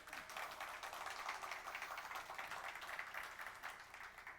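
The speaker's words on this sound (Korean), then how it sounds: "한 번 더 박수 주세요." Audience applause at a cello concert, a steady, dense wash of clapping that holds at a soft, distant level throughout.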